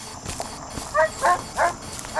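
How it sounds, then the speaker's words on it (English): A dog barks three times at a distance in a quiet outdoor setting, with evenly spaced, moderately loud barks and no talk over them. "The dog is over there."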